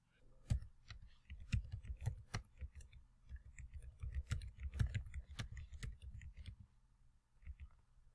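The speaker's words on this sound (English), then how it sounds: "I'm going to type in the same list that we just used" Soft rapid clicks of a computer keyboard as a list of numbers is typed, irregular bursts of light close keystrokes with brief pauses between, faint and fairly steady.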